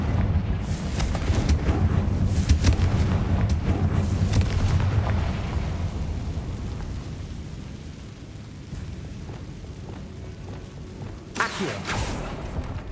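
Confringo fire spell blasts in Hogwarts Legacy, rumbling explosive bursts and whooshes in a dense, continuous barrage that fades slightly, ending with a sharp louder burst.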